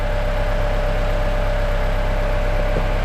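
A 2014 Toyota Camry engine runs at a steady, even idle, close and continuous with a low droning hum and no revving or talking.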